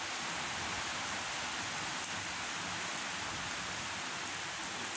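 Steady rain falls as a dense, even hiss on a rainy, windy day, constant and fairly loud throughout with no voices.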